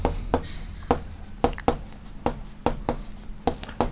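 Chalk or marker taps and strokes across a classroom board as a decimal number is written, a series of sharp, evenly spaced knocks close by, with a little faint background talk.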